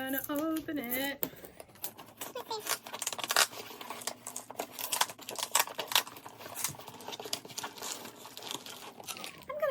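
A taped brown cardboard shipping box being handled and opened, with close, quiet crinkling, tearing and scraping clicks in irregular bursts.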